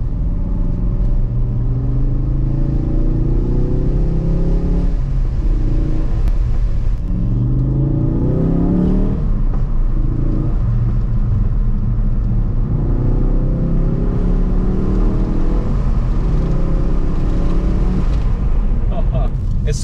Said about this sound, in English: It just feels way better when you drive it a little bit faster, when you press the gas a little bit.